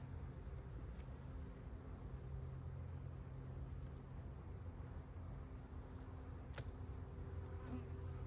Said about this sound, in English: Bees everywhere. Oh, it is a beehive, mind you.